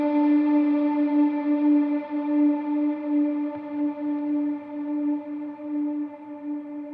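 A single sustained guitar note rings out, drenched in lush wavering reverb that swells and slowly decays, with no other sounds.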